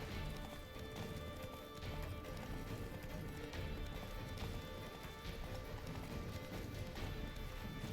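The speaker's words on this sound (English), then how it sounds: "ม้ามึงเร็ววะเฮีย" A horse gallops steadily in The Witcher 3, its rapid clip-clop hoofbeats running continuously and fairly loud over a dense game soundscape for the whole stretch.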